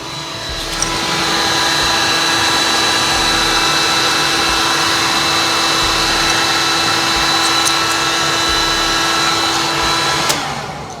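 A heat gun heat-treating products at an order-packing station blows a steady, loud, continuous whoosh with a faint electric hum, holding evenly for about ten seconds before cutting off near the end.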